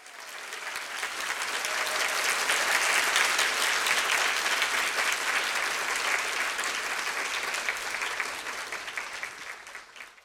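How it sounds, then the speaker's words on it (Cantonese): Sustained applause from a seminar audience welcoming three speakers onto the stage of a medical school panel on life and death, swelling up quickly, holding steady and dense, then tapering off near the end. "我哋以最熱烈嘅掌聲歡迎 Philip、Michael 同埋 Tony。"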